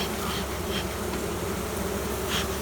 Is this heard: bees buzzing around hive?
yes